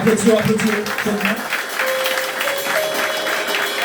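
Audience applause for arriving guests at a group gathering, a steady broad patter with a sustained tone and voices mixing through it.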